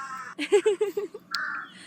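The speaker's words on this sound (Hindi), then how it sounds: "अचानक से कौवे क्यों चिल्लाने लगी।" A crow caws in a quick run of about five harsh calls, loud and fairly close, followed by a shorter higher call, with no talking.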